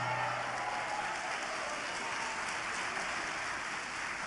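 An audience claps steadily throughout at the 11th Bahia Christian Family Congress, a dense, even wash of hands from a large crowd with no voices standing out.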